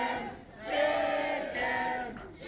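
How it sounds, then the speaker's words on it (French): Crowd noise at a professional wrestling event in Lévis, a broad roar of many voices swelling and easing in waves, with shouting crowd energy and no clear single voice. "Et la foule de Lévis veut que le combat commence."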